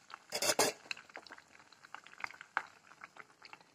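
Fasting-style vada made with bhagar and boiled potato frying in hot oil, giving a soft, continuous bubbling crackle, with a sharp clatter of utensils near the start and scattered pops after.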